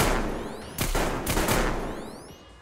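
Gunfire in the post-apocalyptic shooter Metro Exodus, a dense burst of several loud, close shots in quick succession with a rumbling, noisy tail, played on hardcore difficulty.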